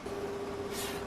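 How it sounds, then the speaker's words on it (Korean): A car engine idling on a cold winter day gives off a steady, odd-sounding drone with a persistent tonal whine, close by and continuous, with a brief hissy rise near the end. "엔진 소리 이상한데?"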